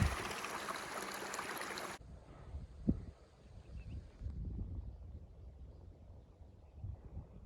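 Water from a mountain stream at high elevation rushes steadily in the open, a soft continuous wash with breezy outdoor noise over it and no talking.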